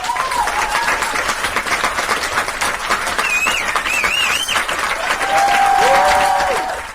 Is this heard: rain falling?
no